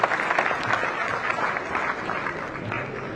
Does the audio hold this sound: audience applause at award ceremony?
yes